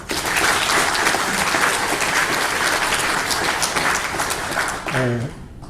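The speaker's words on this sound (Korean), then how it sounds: "우리 크게 박수 한번 하겠습니다" Congregation applauding at a church ordination thanksgiving service, a loud, dense sustained clapping that fills the hall, with a brief voice or tone near the end as it fades.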